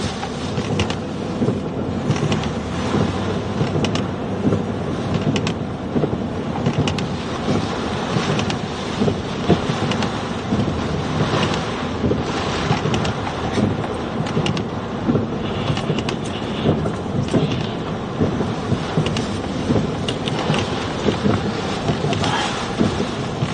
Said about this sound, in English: Wow, strong wind.